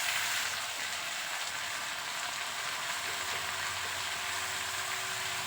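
Pumpkin greens and jackfruit seeds are tossed into taro and potato already frying in a pan, giving a steady, even sizzle that crackles continuously without voices.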